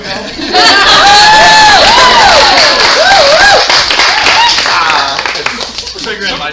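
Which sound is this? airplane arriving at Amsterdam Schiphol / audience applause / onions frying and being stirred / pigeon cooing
audience applause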